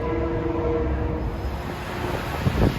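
An M3 commuter train on the trestle at Harlem 125th Street gives a steady rolling rumble with a sustained tonal hum, swelling slightly near the end.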